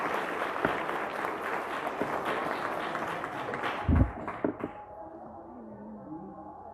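An audience at a children's book launch breaks into steady applause, many hands clapping densely for several seconds before the sound thins out and fades to quiet room tone.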